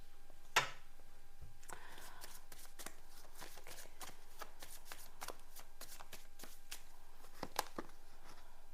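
Tarot cards are shuffled by hand in quiet, close bursts, with a sharp tap near the start followed by repeated crisp riffling flicks.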